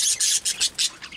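A pet breeding bird squawks in a run of harsh, shrill bursts, about six in quick succession, close and loud with no voices.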